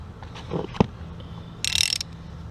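Vice grips hold the main shaft while a half shaft bolt is worked loose on a Chevy Malibu: a sharp metallic clank, then a brief burst of rapid ratchet clicking, close and fairly quiet.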